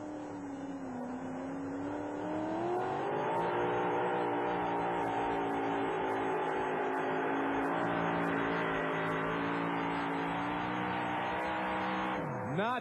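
Aftershock monster truck engine roaring loud and steady while pulling a sled on a track at a 1991 USHRA monster truck show in Uniondale, NY, pitch climbing as it strains, then dropping off abruptly near the end.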